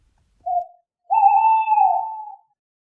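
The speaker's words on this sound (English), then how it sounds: "an owl outside the cave hooted" An owl hoots outside a cave: a short, soft note followed by a longer, drawn-out hoot, clear and close against total silence.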